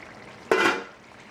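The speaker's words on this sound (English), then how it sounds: "Now here's where we're going to add that water to the pot." Water splashes into a pot of curry fish with green mango in one brief burst of broadband rush, near and fairly loud, then fades back into low kitchen background.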